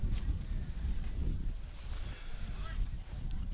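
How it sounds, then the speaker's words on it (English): Strong, constant wind buffets the microphone at the Truro Saints Rugby Club field, a low, gusty rumble that keeps swelling and easing, with no one talking. "She is a stiff breeze a-blowing here, pretty much constant at the Truro Saints Rugby Club."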